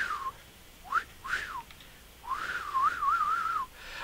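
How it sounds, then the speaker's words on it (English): A person whistles nervously in short melodic bursts, pausing, then a longer warbling run toward the end, with no talk and little else behind it. "sorry about the whistling. I just do that when I just somehow get nerve-wracked."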